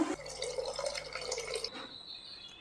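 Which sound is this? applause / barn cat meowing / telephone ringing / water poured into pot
water poured into pot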